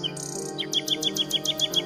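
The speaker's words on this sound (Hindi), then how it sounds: "हम चाहते हैं कि इस बुलबुल का सुंदर गाना पूरा राज्य सुने।" Bulbul singing: a short, bright series of rapid repeated high chirps, clear and close, over a soft sustained musical drone in an animated story.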